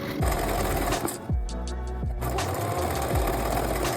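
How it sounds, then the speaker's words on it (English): Sewing machine stitching a tank top seam, a loud close rapid mechanical whir with repeated thumping strokes and a brief pause midway before the stitching resumes. "Then you're gonna sew all the way from one end to the other."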